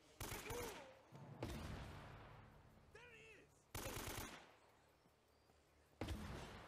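Loud bursts of gunfire ring out in Uncharted: Drake's Fortune as sharp, booming volleys spaced a second or two apart, with game voices and noise between the shots.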